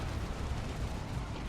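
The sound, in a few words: artillery barrage in video game Dawn of War 2 Retribution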